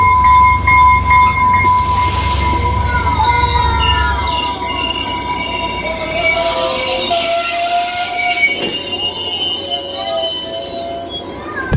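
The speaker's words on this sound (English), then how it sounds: "taking a train to Santa Fe" A passenger train running from Albuquerque to Santa Fe, New Mexico, rumbles loudly and steadily from on board, with high wheel squeals sliding over the low rolling noise.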